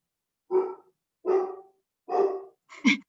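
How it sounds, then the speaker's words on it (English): A dog barks four times in a slow, evenly spaced sequence, close and clear against silence, the last bark sharper and shorter than the others. "The dog has a question."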